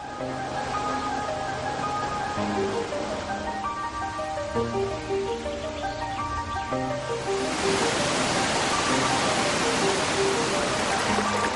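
Cascading waterfalls beside grottoes give off a constant broad rush of water under a musical backing, the roar swelling louder and brighter in the latter part.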